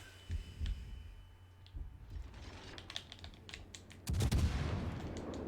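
Gunfire from enemy ships in a World of Warships Legends naval battle: scattered sharp cracks and thuds, then a loud sustained barrage of explosive impacts near the end.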